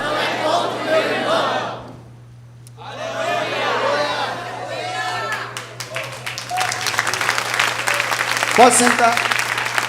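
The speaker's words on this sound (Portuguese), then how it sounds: "Essas palmas nesse microfone vai sair horrorosas" A church congregation claps into a close microphone during a sermon, the clapping building harsh and crowded after a preacher's spoken line, with voices shouting over it.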